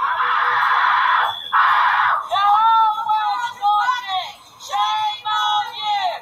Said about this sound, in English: they're playing the audio of the screams of disabled people getting shocked